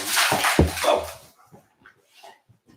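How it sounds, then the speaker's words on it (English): A dog gives a loud close bark or two followed by softer, fainter whimpering noises that trail off into near quiet. "I don't know what's going on with my dog right now."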